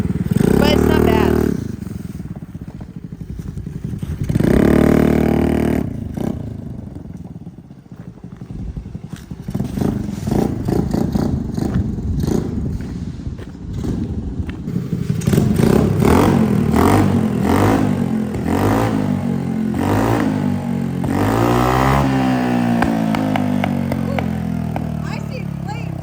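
A Honda Navi motorcycle runs with a baffled exhaust, revving up loudly several times close by, with clattering and voices talking over the engine.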